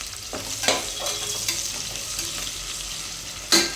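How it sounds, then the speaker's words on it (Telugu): Onions frying and being stirred in a pressure cooker for mutton biryani, a steady close sizzle broken by a few scraping stirs and a sharper clatter near the end, with no talking. "ఈ ఉల్లిపాయలు బాగా ఫ్రై అవ్వాలి, బ్రౌన్ కలర్లో రావాలి"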